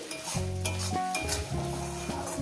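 Spice paste for an egg curry with raw tomato is stirred and fried in a pan, giving a steady close sizzle with repeated scraping strokes and no talking.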